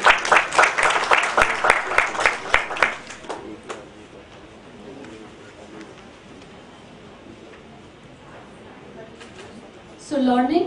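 An audience at a book launch gives a short burst of clapping, loud and dense for about three seconds, then drops to quiet room ambience before a voice starts speaking.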